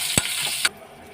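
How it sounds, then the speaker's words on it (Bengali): Slit green chillies and nigella seeds frying in hot oil in a pan, a close sizzle broken by two sharp spatula knocks before the hiss drops quieter. "ওই তেলেতেই দুটো চেরা কাঁচা লঙ্কা দিলাম। একটু কালো জিরে দেব। ভালো করে ভেজে নিতে হবে।"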